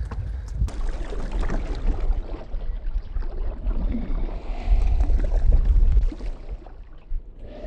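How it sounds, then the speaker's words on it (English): Strong wind blowing outdoors, heavy rumbling gusts buffeting the microphone, rising and falling and strongest near the middle, with no voices. "Look how strong the wind is."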